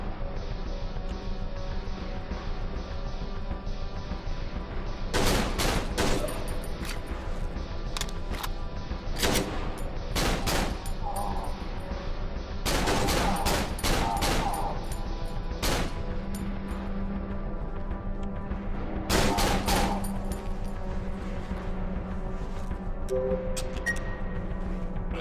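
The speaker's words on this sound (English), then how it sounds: "I don't know why I keep trying to shoot when he's moving." Repeated gunfire bursts in the horror video game Cry of Fear, sharp loud shots clustered in volleys over a steady droning background, with a person's voice occasionally under the action.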